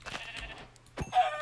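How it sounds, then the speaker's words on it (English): Sheep in Minecraft bleat twice, with a short bleat near the start and a louder, longer one near the end, fairly close and clear. "that's a lot of sheep."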